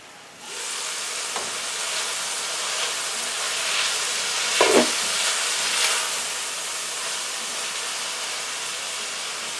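Zucchini fries in a pan for a mango vegetable chicken and rice dish, giving a steady close sizzle and hiss with a few scraping stirs partway through.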